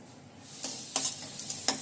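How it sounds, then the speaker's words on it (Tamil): Soft scraping strokes of a spoon stirring thick thudhuvalai kuzhambu curry in a pan, several uneven taps over a faint background sizzle. "நல்லா மிக்ஸ் பண்ணிக்கலாம்."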